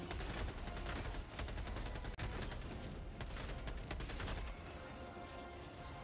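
Sustained automatic gunfire in Helldivers 2, a dense rapid rattle of shots with explosions mixed in, loud and continuous before easing into a lower rumble near the end.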